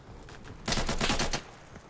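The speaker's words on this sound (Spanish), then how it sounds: "No sé ni de dónde coño me está disparando." Rapid automatic gunfire from the combat shooter game Insurgency bursts loudly for about a second, a dense string of close shots between quieter distant firing.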